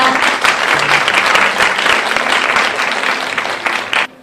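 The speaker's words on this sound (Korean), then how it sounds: "다들 큰 박수로 맞이해 주세요" An audience claps in steady, dense applause welcoming a speaker onto a Korean talk-event stage, sustained for about four seconds before cutting off abruptly.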